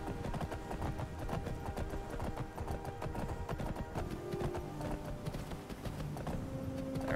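A horse ridden along a path in Skyrim, a video game, makes steady rhythmic hoof clip-clops that run throughout, with soft game music tones underneath.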